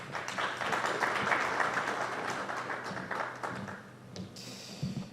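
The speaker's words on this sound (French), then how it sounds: "Sous vos applaudissements, mesdames et messieurs." A conference audience applauds panel speakers at a logistics event on decarbonisation, dense clapping that swells early then gradually thins out and fades toward the end.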